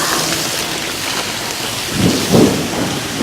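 An outdoor thunderstorm brings steady heavy rain hissing on surfaces, with low thunder rumbling up around the middle and fading back into the downpour.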